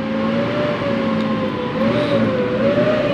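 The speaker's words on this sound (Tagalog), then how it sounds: "So pati pala bearing guys, sira guys, maingay na." A whining, droning Nissan Navara engine with a steady rising-and-falling tone over mechanical rumble from a noisy worn pulley bearing, continuous and close.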